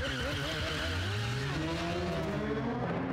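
A car engine revs hard with rising pitch while tires skid, from a scene in the film Mission Impossible Rogue Nation, heard loud and continuous with faint voices in the background.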